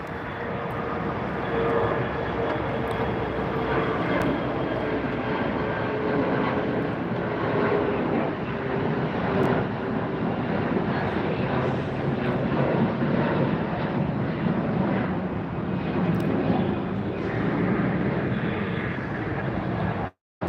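A Fiji Airways airliner in special livery rumbles past at Los Angeles airport, a loud, continuous broadband engine roar holding steady for about twenty seconds and cutting off abruptly at the end.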